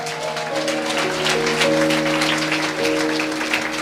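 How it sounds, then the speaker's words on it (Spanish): A church congregation applauds in dense, continuous clapping, loud and steady for several seconds over sustained musical tones. "Fuerte aplausos."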